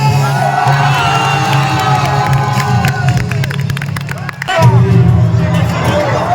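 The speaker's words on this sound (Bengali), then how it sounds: "একটার জন্য জোরে হাততালি।" A crowd at a grand film promotion event at a plaza cheers and shouts loudly and without a break, thick with whoops and babble and with a deep hum of loudspeakers underneath.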